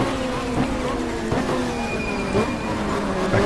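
A 1995 Super Touring race car at Mallala, engine note dropping through downshifts into first gear for a hairpin, steady and fairly loud with whining revs throughout.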